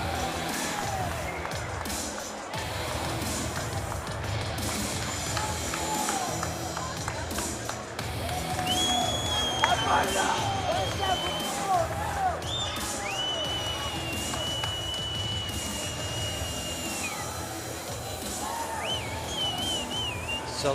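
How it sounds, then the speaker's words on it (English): An arena crowd cheers and celebrates after a fighter's points win at a GFC fight night in Batumi, a steady wash of loud, dense crowd noise that runs throughout, with whistles and shouts over it. "Celebrations and huge crowd support here for Mairbek Suleimov"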